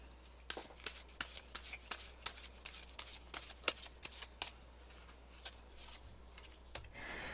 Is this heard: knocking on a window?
no